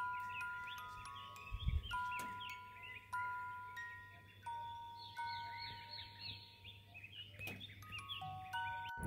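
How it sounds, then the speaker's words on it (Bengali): Birds singing on a cloudy morning at a hill hotel in Rishop near Kalimpong, with faint repeated whistled notes and chirps set against a quiet background, plus a brief low thump. "পাখির আওয়াজটা শুনুন।"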